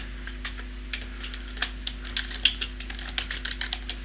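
Steady typing on a computer keyboard while entering questions into a Microsoft Access form, with many light, close clicks at an uneven, rapid pace over a constant low electrical hum, and no voices.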